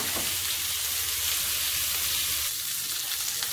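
Strips of bacon sizzle in a pan over medium heat while cooking for a BLT: a steady, close, dense crackle and hiss that runs throughout, with no talking.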